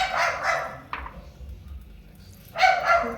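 A dog barks a few times nearby, a pair of quick barks at the start and another loud burst near the end, with a short yelp between.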